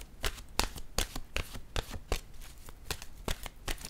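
Tarot cards are shuffled and handled during a reading, a quick run of close, crisp riffling snaps and slaps in an irregular rhythm with no talking.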